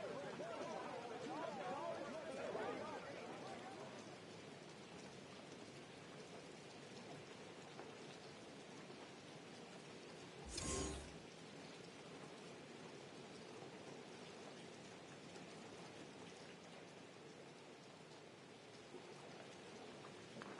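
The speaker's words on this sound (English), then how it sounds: "The rain set to continue as we are underway in the second half." Steady rain falls over a football field during the second half of a Buccaneers versus Bengals game, a continuous hiss throughout with a brief louder burst near the middle and faint chatter underneath.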